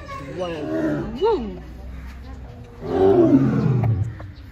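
Tiger roaring at a zoo, a loud rising-and-falling roar near the start followed by a longer, deeper growling roar later, with voices talking over it.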